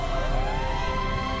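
A fire engine siren in the video game GTA 5 wails steadily with rising and falling tones over a constant engine and street rumble, loud and close throughout.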